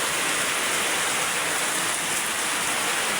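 Very heavy rain pours at night during a storm with flooding nearby, a dense, loud, unbroken roar of downpour with no let-up.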